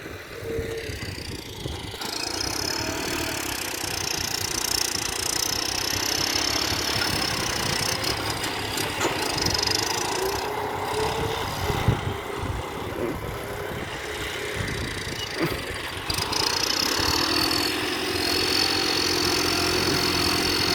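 A John Deere 5050 diesel tractor engine, 50 horsepower, idles steadily and loudly nearby, a continuous rumbling drone with slight fluctuations throughout.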